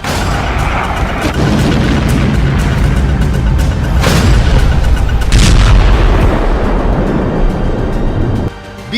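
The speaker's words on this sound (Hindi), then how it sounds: "ड्रोन से दागी गई मिसाइल के धमाके से जेलेंस्की का पैलेस भी दहल गया है।" Missiles fired from drones explode over Kyiv during a night attack, making loud booming blasts and rumbling bursts. They run continuously and heavily over about nine seconds.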